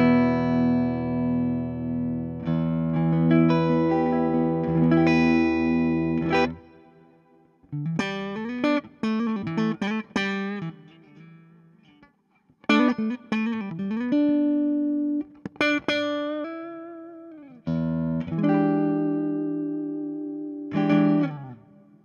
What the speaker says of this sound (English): I would like you guys to hear the clean channel with humbuckers here